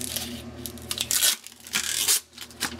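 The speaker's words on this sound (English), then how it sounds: "Pull some tape off here" Tape is peeled off CNC-engraved glass with a loud, close tearing rip in uneven surges and brief crackles, followed by short stops.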